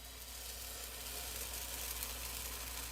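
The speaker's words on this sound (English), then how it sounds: "There we go, sizzle." Steady, soft sizzling of coconut flour protein pancake batter frying in a hot pan, a continuous hiss with no talking.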